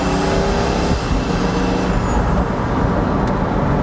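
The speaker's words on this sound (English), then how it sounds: "You can hear the exhaust. You can hear the turbos because obviously we're outside." A Pagani Huayra roadster drives with its roof off, its engine, exhaust and turbos forming a steady, loud broadband roar heard from inside the open cabin.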